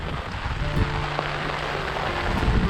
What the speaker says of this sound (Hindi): बारिश भी बढ़ रही है,